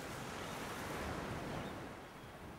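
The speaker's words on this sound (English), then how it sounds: "I'll pour away some of this water first." Water tipped out of a bucket in a video game, a steady rushing splash that fills the whole moment, with no talking.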